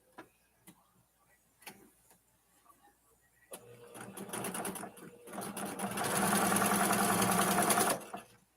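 A sewing machine stitches a seam on a vintage Christmas project, starting with a few faint clicks, then running steadily and loudly for several seconds before stopping.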